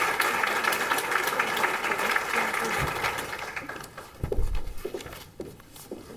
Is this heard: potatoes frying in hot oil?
no